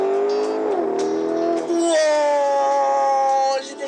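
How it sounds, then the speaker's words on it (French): Lamborghini Urus SUV engine revving in sport mode, a steady loud drone that holds, dips briefly, then climbs again and sustains close to the listener. "le moteur il a changé de bruit"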